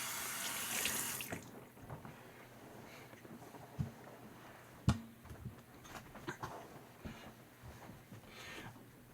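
Water runs steadily from a tap as a knife blade and sharpening stone are rinsed of slurry, a soft continuous splash broken by a few light knocks and clicks, fairly quiet and close.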